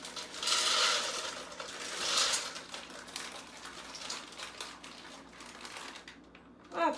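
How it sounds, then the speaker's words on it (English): Dried lima beans tumble into a pot in a few loose rattling bursts, near and fairly quiet, with soft clatter between pours and a brief knock at the end; no talking. "So all our beans are in our pot."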